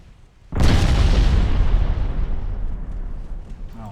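A heavy 8-inch naval shell strikes a warship in a naval battle game, one sudden loud boom followed by a long roaring, rumbling decay with no voices.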